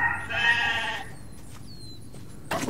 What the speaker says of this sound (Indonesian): Ada domba.